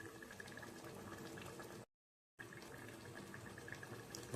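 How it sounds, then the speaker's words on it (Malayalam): Pork curry made with frozen pork bubbles steadily in a pot, a soft continuous simmering burble heard up close at low volume, broken by one short silent gap. "തിളച്ചൊന്ന് വറ്റട്ടെ"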